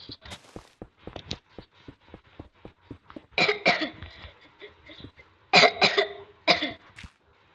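A man with a cold coughs repeatedly, a series of short dry coughs followed by several harsher, louder bursts and some throat clearing, close to the microphone.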